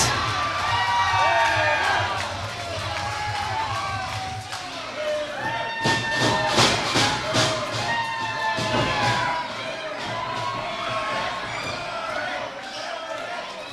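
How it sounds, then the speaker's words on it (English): A wrestling crowd cheers and chants at an independent show, a dense, sustained roar with rhythmic shouts and whoops rising in bursts, close and loud, with a commentator's voice running over it. "the crowd is actually chanting for Jorge"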